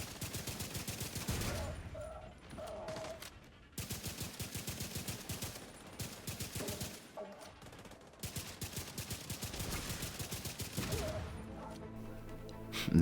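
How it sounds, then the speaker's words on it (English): Rapid bursts of rifle fire from the Merciless weapon in The Division 2 shooter game crackle in long volleys broken by short pauses, with heavy explosive pops mixed into the loud, dense gunfire. "if this explosion happens while you're ADSing the NPC using the Merciless, there's a potential to instantly delete them with this explosion"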